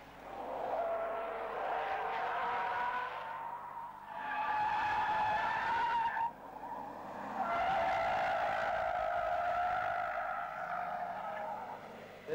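A 1999 rally car slides progressively through corners with tires skidding. Long squealing skids come one after another over a loud, steady engine roar, with no voices.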